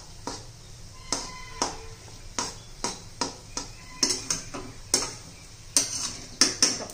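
A spoon scraping and knocking against a thick-bottomed kadhai while besan and bottle gourd are stirred, a steady series of sharp metallic ticks and clinks about twice a second, close and clear.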